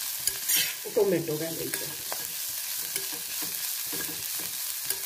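Fenugreek leaves and coriander fry in hot oil with a continuous sizzle and stirring clatter. A voice speaks briefly near the start.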